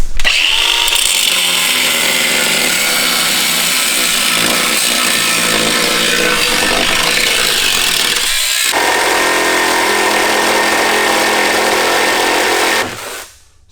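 A power tool rough-cutting out the center of a Mazda RX-7 FD's body panel to make room for a 1JZ engine, a loud continuous high-pitched grinding whine that drops in pitch partway through, then stops abruptly.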